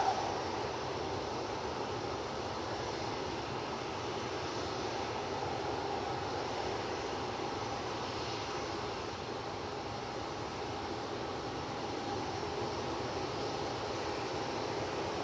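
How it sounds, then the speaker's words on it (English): An EasyJet airliner touching down at Manchester Airport gives a steady, distant engine roar with broadband rumble and hiss that holds even and unbroken throughout, with no voices. "Nice touchdown there."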